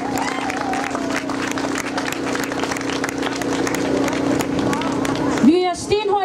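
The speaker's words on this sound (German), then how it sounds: "Jetzt dürft ihr klatschen" Rapid clapping from a crowd at a Roma Day demonstration in Berlin, steady and fairly close, with a persistent hum and chatter mixed in and a sharp shout or whistle near the end.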